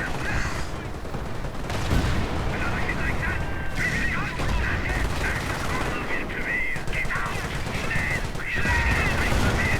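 Armour battle in a video game: machine guns rattle almost without pause, with scattered gunshots and artillery fire thudding in among them, a dense, steady barrage throughout, and a voice is heard now and then.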